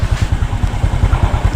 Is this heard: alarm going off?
no